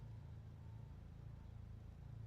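Steady low car engine idle in the video game Project Zomboid, a soft continuous rumble that holds even throughout, fairly quiet and alone with no talking.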